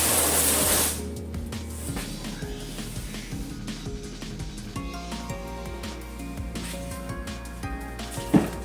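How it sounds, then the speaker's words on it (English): A cutoff wheel slices through metal on a grill, opening with a loud hissing burst and then settling into a steady gritty grind with a thin whine running through it, plus a sharp clack near the end. "we'll cut this out with a cutoff wheel"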